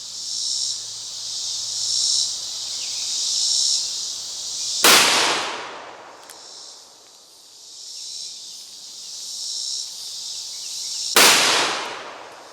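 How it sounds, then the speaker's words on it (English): Two loud, sharp gunshots from a Smith & Wesson .500 Magnum revolver fired outdoors about six seconds apart, each a sudden blast with a booming decay, over a steady chorus of chirping insects. "500 Magnum is just a brutal gun."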